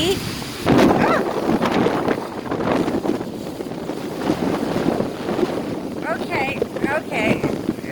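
A strong windstorm gusts past outdoors near trees and a chicken coop, buffeting the microphone in uneven rumbling surges while a person talks throughout.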